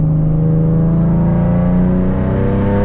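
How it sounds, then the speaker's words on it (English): A turbocharged 2010 Nissan 370Z Nismo with a VQ engine hums loudly from inside the cabin as it accelerates, its pitch rising steadily while a thin turbo whistle climbs above the drone. "It's so cool to have the VQ trumpet out back and the turbo whistle"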